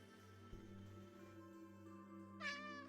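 A pet cat named Mishka meows, drawn-out and fairly faint indoors, with a sharper higher cry near the end over a low steady background hum.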